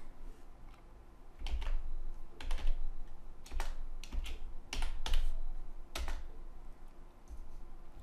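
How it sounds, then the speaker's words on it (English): Typing code on a computer keyboard: scattered quiet key clicks in small clusters, close but soft, with pauses between bursts. "I go to code view and I type in a div star tag right here."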